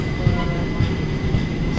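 Inside a passenger train at a railway station platform, a loud, steady low rumble with faint rhythmic clatter runs throughout, with no clear speech over it.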